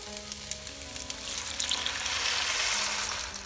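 Cold water goes into a hot pot of spelt pilaf, raising a loud, hissing sizzle that swells and holds steadily before easing slightly, heard close with no talk.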